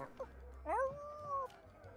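A dog in the Sea of Thieves video game gives a short rising whine-like bark, followed by a faint second sound, heard fairly quietly.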